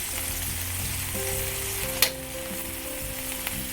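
Beef and Baguio beans sizzle steadily in a frying pan as they are stirred, a loud continuous fry with one sharp scrape or clink partway through.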